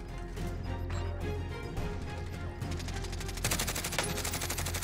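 Rapid bursts of automatic gunfire in the Warzone battle royale shooter, aimed at the driver of a moving vehicle, with dense overlapping shots that grow louder and more continuous toward the end, close and sharp.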